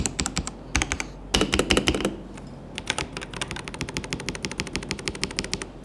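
Typing on a NUBWO X37 mechanical keyboard with soft, smooth switches: quick bursts of clacky keystrokes, then a steadier run of rapid presses, close and clear with no talking.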